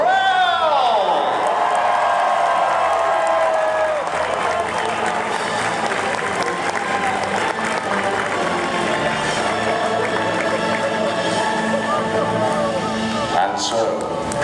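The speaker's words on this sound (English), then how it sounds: "Raise a mighty cheer for the Knights of the Blizzard Realm!" An audience at a Blizzard Entertainment medieval-tournament show roars for the Knights of the Blizzard Realm, with steady applause, whoops and cheering filling the hall. A loud announcer-style voice carries over the sustained crowd noise.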